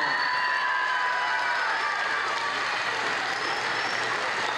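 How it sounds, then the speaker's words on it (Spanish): Sustained audience applause for the chorister Laura after a school symphony orchestra's encore performance, a dense even wash of clapping from a large hall crowd, steady and loud throughout with no talk over it. "Un aplauso."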